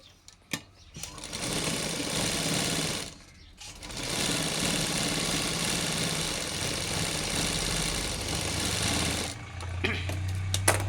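A sewing machine stitches two layers of baby frock fabric together in a fast, steady mechanical whir. It runs close and loud, pauses briefly, runs again for several seconds and then stops.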